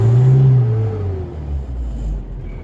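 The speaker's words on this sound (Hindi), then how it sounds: "এভাবে গাড়ি স্টার্ট করতে হয় ম্যানুয়াল গাড়ি" A manual car's engine cranks and catches, a loud close rumble with a rising then settling whine that drops back to a steady idle, no talking.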